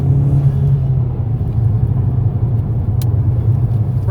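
A 500 hp EcoBoost Mustang's engine rumbles steadily from inside the car during a ride along, a loud, deep, continuous drone.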